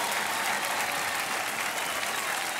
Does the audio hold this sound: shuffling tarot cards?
no